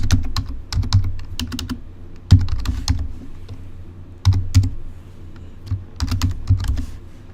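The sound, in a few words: typing a new folder name on a computer keyboard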